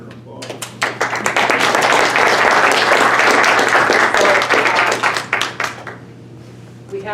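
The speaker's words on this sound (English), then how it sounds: "Okay, let's give her an applause." A room at a heritage center bursts into applause for a speaker, dense clapping that swells quickly, holds strong and close for several seconds, then thins out into scattered claps, over a steady low hum.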